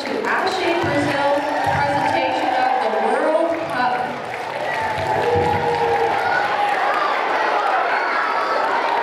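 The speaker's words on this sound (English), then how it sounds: "put your hands together, give a big cheer, a big welcome to Aché Brasil" A school audience cheers and claps to welcome a Brazilian performance group, with a dense wash of yells and shouting voices over scattered applause.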